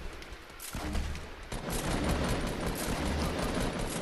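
Gunfire in Fortnite rattles in dense, continuous volleys, loud and close, with rapid overlapping shots filling most of the stretch after a brief lull.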